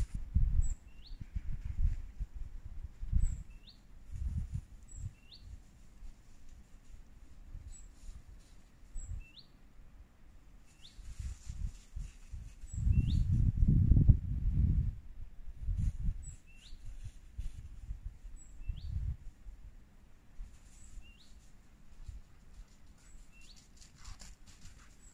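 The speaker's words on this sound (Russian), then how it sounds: "Птичка поет, да? Ты слышала, да? Поет." Small bird singing outdoors in a park at Jurmala, bright high chirps repeating in short bursts from some distance over rustling and low handling noise, with a louder scuffle in the middle.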